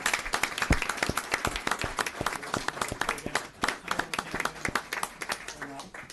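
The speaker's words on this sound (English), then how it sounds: "Another round of applause for Officer Dennis" Audience applause at a town board meeting for Officer Dennis during his badge pinning, dense clapping from many hands in a room, with a few voices talking over it near the end.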